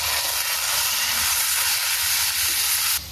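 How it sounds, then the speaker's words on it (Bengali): Data shak greens are tipped into hot oil with burnt garlic and nigella seeds, giving a loud, steady, close sizzle that holds evenly and drops off slightly right at the end. "শাকগুলো এখন ঢেলে দিই"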